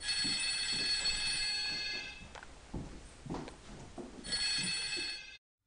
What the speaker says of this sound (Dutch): Ik ga even de telefoon opnemen.